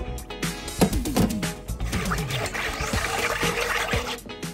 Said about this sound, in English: Now we're gonna add in our 2 cups of whole milk. And you wanna whisk that in as well.